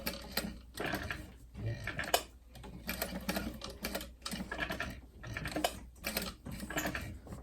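A sewing machine stitches an applique frame in short bursts, a few stitches at a time, with brief pauses between the rapid clattering runs.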